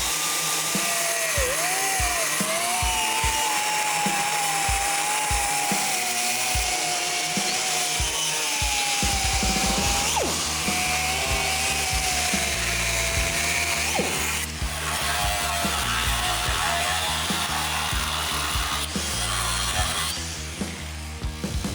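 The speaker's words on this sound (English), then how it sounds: "First thing we like to do is cut an X in those rivets" A power tool grinds and cuts an X into the rivets of a Chevrolet C10 truck frame, a loud continuous metallic whine with rhythmic ratcheting chatter and shifting pitch, close by and without talk.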